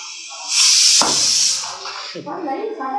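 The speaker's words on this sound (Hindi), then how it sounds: "कुकर में तो सीटी आ गई" A pressure cooker whistle releases a loud, sharp hiss of steam close by, peaking for about a second before tapering off, followed by a voice speaking in the room.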